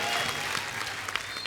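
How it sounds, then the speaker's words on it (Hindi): A television comedy show's studio audience claps for an arriving guest, a brief burst of dense applause with a few sharp louder claps near the end. "जोरदार तालियों से स्वागत करिए"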